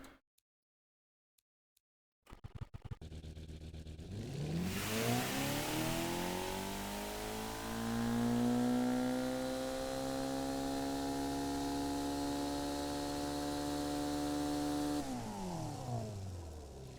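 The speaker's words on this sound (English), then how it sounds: "it still sounds pretty vicious, you know, considering it's twin turbo V8" After a brief silence, a twin-turbo V8 drag car engine in the video game BeamNG.drive cranks, fires and revs up into a sustained, loud growl with a rising pitch, then settles down near the end.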